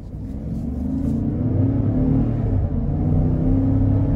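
A 2020 Cadillac Escalade ESV Platinum with a 6.2-litre V8 accelerates hard from inside the cabin, its engine building into a deep, steady, loud rumble that holds throughout with no talk.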